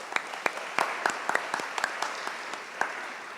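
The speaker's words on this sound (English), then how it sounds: "If we could all give him another round of applause." A small graduation crowd in a church sanctuary gives another round of applause for Reverend Schuyler Vogel of the Fourth Universalist Church. The clapping is thin and scattered, with distinct individual claps popping out over a soft bed of hands.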